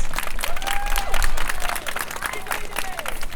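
An audience at a Pottsville Pride 2020 speech applauds in a steady, dense wash of clapping that fills the space, with crowd murmur mixed in.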